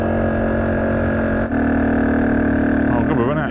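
A 1968 Honda CT90 motorcycle engine runs steadily in second gear on a hilly English country road, a loud continuous drone, with someone talking over it near the end.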